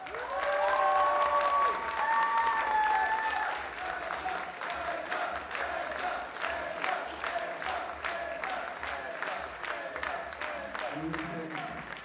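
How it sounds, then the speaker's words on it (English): Crowd at an ATTACK! Pro Wrestling event breaks into sustained applause and cheering, loud and close at first, with a whistle-like tonal cry early on, then steady clapping that slowly fades. "do we think Intergender deserves another round of applause"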